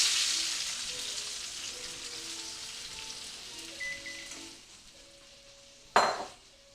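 Tomatoes sizzle in a pan of olive oil, a bright hiss that gradually softens before one sharp metallic clatter near the end.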